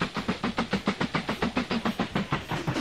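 A steam train pulling into a station in the train-building game Mashinky, a rhythmic chuffing with about a dozen evenly spaced puffs and hiss, close and steady without any talk.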